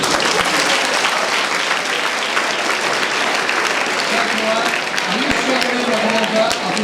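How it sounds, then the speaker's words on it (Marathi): An audience at a goal-setting and motivation session at a Rotary English Medium school bursts into sustained clapping, loud and dense throughout, with some voices mixed in. "टाळ्या नाही वाजवणार?"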